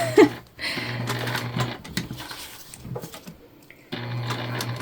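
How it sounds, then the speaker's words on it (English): A sewing machine runs in short bursts of steady stitching along the seam of a bag, close and clear, pausing between runs. "we're just sewing 1/8 of an inch away from the edge here"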